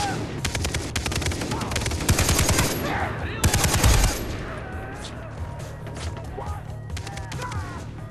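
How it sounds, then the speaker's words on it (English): Rapid automatic gunfire crackles in the video game Far Cry 3, loud bursts of shots clustered in the first few seconds, then scattered cracks over a quieter background. "Where am I getting shot from?"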